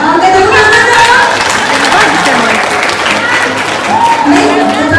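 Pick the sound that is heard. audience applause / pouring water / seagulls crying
audience applause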